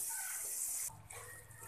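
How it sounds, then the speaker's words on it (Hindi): Water splashed into a pakora curry pan over low flame, a soft broad hiss and spatter that shifts partway through into a lower bubbling sizzle, close and steady with no talk. "पानी का छींटा लगाएंगे।"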